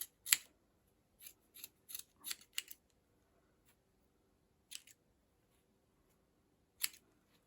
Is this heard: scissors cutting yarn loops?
yes